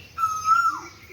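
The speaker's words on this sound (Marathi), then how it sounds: "पक्ष्यांची चिवचिव सुरू झालेली आहे" A single clear, sustained whistled bird call rings out close by outdoors on a wet morning, alone against a quiet background.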